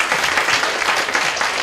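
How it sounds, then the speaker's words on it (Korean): Congregation applause during a church mission talk, a brief, loud, even burst of many hands clapping together without a break. "박수 한번 하겠습니다"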